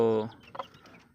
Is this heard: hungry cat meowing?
no